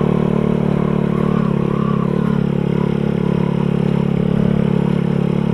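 A motorcycle engine runs steadily and loud while being ridden, a constant low hum with light clatter and no clear revs, continuous throughout.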